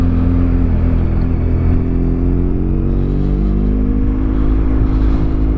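Motorcycle riding noise picked up by a TECHALOGIC DC-1 helmet dash cam: a loud, constant engine drone mixed with heavy wind rush, its pitch rising gradually, and no speech.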